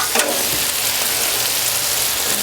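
Garlic shrimp sautéing in a pan, a loud, steady, close sizzle and crackle of frying that continues without a break, with faint stirring scrapes.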